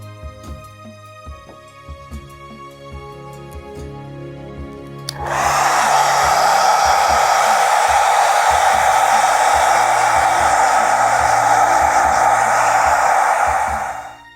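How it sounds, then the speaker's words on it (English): Hair dryer switched on partway through to dry paint on dwarf miniatures, a loud steady whoosh and motor hum that holds for several seconds then cuts off, after a quieter stretch of low room hum. "maybe use the hairdryer even if you're batch painting before you move on"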